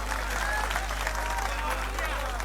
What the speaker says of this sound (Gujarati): એક વખત તાળીયું થઈ જાય